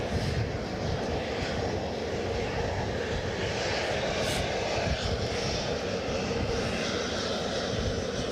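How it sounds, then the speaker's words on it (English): A British Airways Embraer 190 jet takes off for London City, its engines giving a steady, loud, broadband roar that holds throughout with no pauses and no talk. "British Airways, Embraer 190 off to London City"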